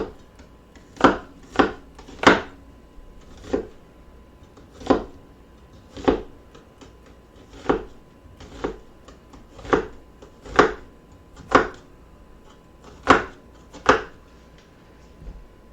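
An onion being chopped with a knife on a cutting board: a dozen or so crisp, separate knife strikes at an uneven, unhurried pace, fairly close and alone with no talking.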